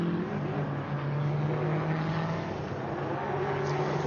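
A rally car climbs a hill at a Goodwood SpeedWeek rally super special, its engine a steady, moderately distant drone that holds evenly throughout without a clear pass-by peak.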